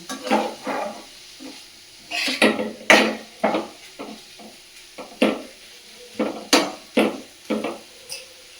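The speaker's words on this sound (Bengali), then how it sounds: "দেখো যেটা বাঁধাকপি আর কড়াইশুটি সেদ্ধ করেছিলাম সেটা আমি একটু পেঁয়াজ একটু শুকনো লঙ্কা একটু জিরে ফোড়ন নুন হলুদ মিষ্টি সব দিয়ে কিন্তু একটু নেড়ে নিচ্ছি এখানে" A utensil stirs boiled cabbage and peas with onion, dried chilli, cumin, salt and turmeric in a pan, making close, irregular scraping and clinking strokes with soft sizzling in between, no voice over them.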